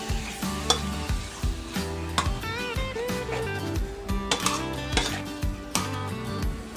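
Chicken giblets stir-fried with Thai curry paste in a pan, a steady loud sizzle broken by repeated scraping and clacking of a spatula against the pan, close up, with no talk.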